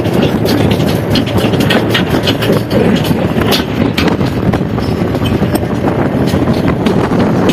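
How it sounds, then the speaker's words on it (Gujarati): A tractor drives past on a village farm track, producing a loud, close, continuous rumbling clatter with wind buffeting that stays steady throughout, without any talk. "આ મારો બીજું ટ્રેક્ટર જઈ રહ્યું છે"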